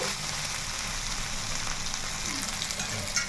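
Cucumber pieces fry in a pan for chicken curry, giving a steady, close, even sizzle and crackle with no pauses and no voices.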